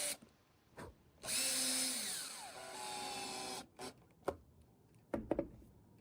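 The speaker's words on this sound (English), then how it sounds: "screwed the boards to the floor joists, and pre-drilled all the screw holes" A power drill drives screws through deck boards into floor joists, with one close whirring run of about two seconds that winds down. Scattered knocks and clicks of handling come before and after it.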